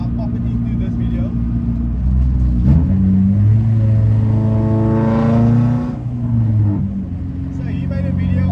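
A K-series Honda Civic drives along the road, its engine droning and rising in pitch through acceleration before easing off, loud and close, with wind and road noise around it.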